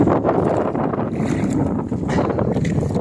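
Strong amihan monsoon wind roars across the sea on a boat, a steady, loud, rumbling rush of air and water noise with no pauses.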